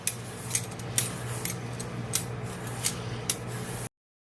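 Fresh zucchini being spiralized into noodles on a spaghetti-cutting attachment, with a steady low mechanical hum and a string of sharp, crisp scraping clicks at irregular intervals, close up and alone.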